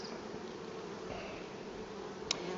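Honeybees buzzing at a hive opened in spring, workers returning with pollen on their hind legs; a steady, faint, close drone throughout with one brief sharp tick near the end.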